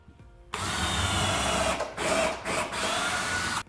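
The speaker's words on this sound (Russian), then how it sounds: "Засверливаемся." Power drill boring into an old, creaky apartment floor during a budget renovation, running loud and close for about three seconds with two brief dips in speed, no talking.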